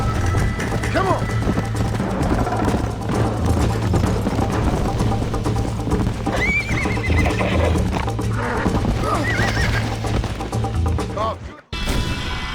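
Horse galloping and neighing in the video game Red Dead Redemption: rapid clip-clop hoofbeats under background music with several whinnies, close and loud, ending in a brief abrupt cut.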